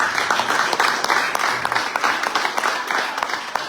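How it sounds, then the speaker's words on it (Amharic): A church congregation at a Pentecostal service claps for a family, with dense, fairly loud applause running steadily throughout and a few voices mixed in. "አሁንም ለእነሱ ቤተሰብ አጨብጭቡላቸው።"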